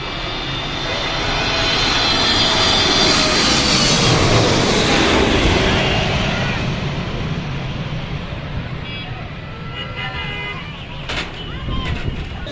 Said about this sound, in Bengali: বিমান বাংলাদেশ এয়ারলাইন্সের বোয়িং 777 মডেলের বিমান।